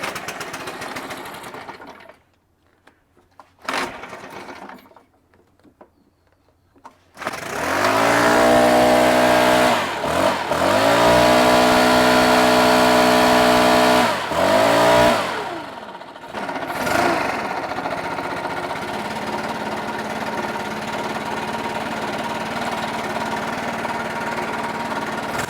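A Stihl BR 600/700 backpack blower's small two-stroke engine is pulled several times with choke on, sputters, then fires up and runs loud and steady with a few revving dips before settling into an even idle.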